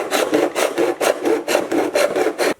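Repeated back-and-forth rasping strokes of a hand saw or file cutting excess wood off a homemade fingerboard halfpipe ramp, about a dozen steady strokes, close and fairly loud with no talking.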